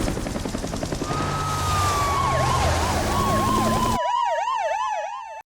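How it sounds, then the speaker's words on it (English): Police sirens wail in a designed chase sequence, a rising tone giving way to a rapid yelping warble over rumbling vehicle and traffic noise, then the siren rings out alone and clear before cutting off. "we've got sound design here, elements for the helicopter and police sirens and chases and things like that"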